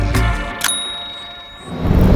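A few bright metallic rings from small chime bells at a restaurant entrance in Chiang Mai, Thailand, the tones hanging and fading before low rumbling noise rises again.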